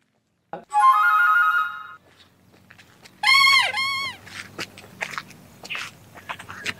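An electronic phone tone plays twice, a short melodic ring with quiet rustling and faint movement in between.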